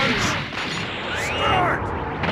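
Rocket punch attack in the video game Dragon Ball Z: Budokai 3, a loud, dense rushing blast of impact and explosion-like noise that fills the whole moment with a sweeping whoosh in the middle.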